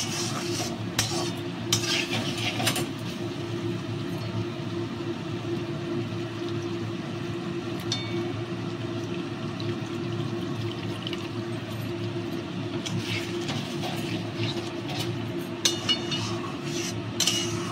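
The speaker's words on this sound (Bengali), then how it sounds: "এবার সব কিছু ভালো করে মিশিয়ে দিচ্ছি।" Paneer curry with a little added water being stirred in a pan: a continuous bubbling simmer under occasional spoon scrapes and clinks, steady and close, with no voices.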